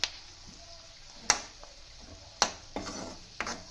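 Onions fry in a pan for a prawn dish while a utensil stirs them, giving soft sizzling broken by a few sharp scrapes and clicks against the pan.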